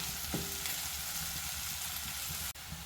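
Ginger garlic paste fries in a pan with a steady, even hiss throughout, one soft knock early on, and a sudden brief dropout near the end.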